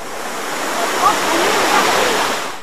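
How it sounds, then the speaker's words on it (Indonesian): Steady rushing water from a flowing stream used for bathing, a loud, continuous broadband wash with no breaks. "Sekali-kali teman di rumah harus coba mandi di air mengalir seperti ini."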